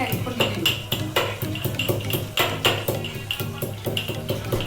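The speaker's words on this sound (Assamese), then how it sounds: "কি খুন্দিছা আদা নহৰু জলকীয়া" Ginger, garlic and chili are pounded by hand, giving a brisk run of sharp, close knocks with a metallic clink in a steady rhythm, while voices murmur faintly underneath.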